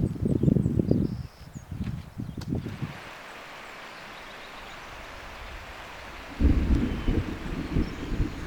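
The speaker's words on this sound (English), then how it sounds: "I started to hear thunder and the skies have started to darken" Low rumbles of thunder roll through the Wyoming mountains in two heavy bursts, with a quieter hushed stretch between them.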